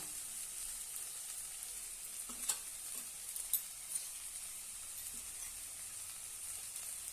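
Red chilli powder and spices sauté in hot oil for a papad chutney, a soft continuous sizzle broken by a few sharp spoon taps and scrapes against the pan, with no voices.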